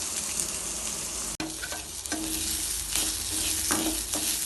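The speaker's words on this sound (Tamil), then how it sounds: "எண்ணெய் ஊற்றி பூண்டு சின்ன வெங்காயம் இதெல்லாம் போட்டு நல்லா வணக்கிக்கலாம்." Garlic and small shallots sautéing in hot oil in a Tamil kitchen while making horse gram rasam, a steady close sizzle with a few sharp stirring scrapes and clinks throughout.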